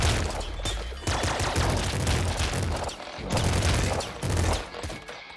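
Minigun firing in a video game, a dense, loud, continuous roar of rapid shots with heavy booming low end, pulsing in long sustained bursts and nearly alone.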